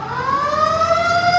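A loud fire truck siren wails steadily upward in pitch, close by, with engine rumble underneath.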